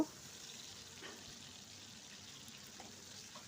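Tomato frying in a pan with salt for a Bengali pumpkin curry, a very faint, even sizzle with no distinct stirs.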